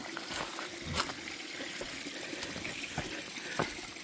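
Water flows and gushes steadily at a solid water source along the Long Trail, a continuous close splashing stream with occasional louder spurts, heard alone without voices.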